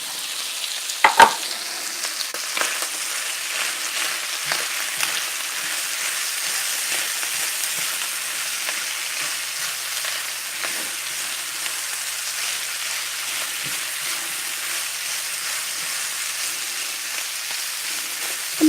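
Peppers and onions frying in a pan to caramelize, a steady close sizzle with a few soft stirring knocks near the start.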